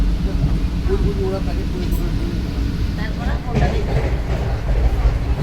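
Inside a moving train, a steady low rumble and hum run continuously, with people talking over the top at moderate volume.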